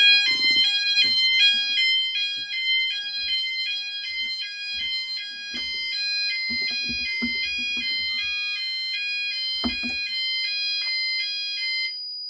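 An EMS 5000 Firepoint home fire alarm sounds during a system test, a steady repeating two-tone electronic pattern running loud and continuous throughout, with faint footsteps and handling noises beneath.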